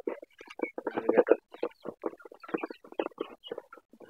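Farm chickens cluck in quick, uneven bursts close by, with a mix of short clucks and busier chatter, and no other sound around them.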